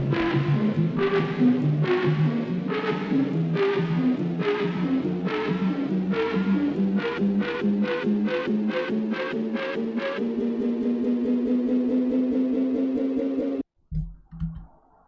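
A synth build-up riser made from bounced audio: rhythmic chopped stabs quicken and rise steadily in pitch, then cut off abruptly, followed by a couple of brief low hits.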